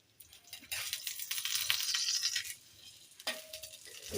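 A chapati frying in oil in a pan makes a steady close sizzle that swells in the middle, with light scraping and a faint clink near the end.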